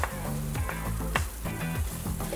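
Ginger dropped into parched flour and butter in a pan while making Guyanese orange soda parsad, sizzling and frying continuously with stirring scrapes, close and fairly loud, no talking.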